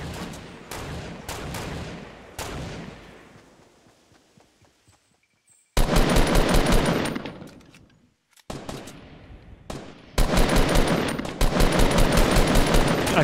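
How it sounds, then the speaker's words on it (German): Sharp bursts of rapid automatic gunfire from a Fortnite squad match crack loudly in clusters, separated by quieter gaps with a few isolated shots. "Oh, ich bin beschossen."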